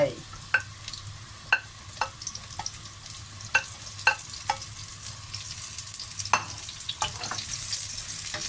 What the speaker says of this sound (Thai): ใส่เห็ดเข้าไปผัดก่อน ผัดให้เห็ดสุกก่อน